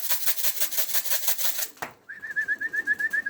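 Tumbler pigeons released outdoors flap their wings in rapid loud bursts, then a steady high repeating call pulses alone after a brief pause.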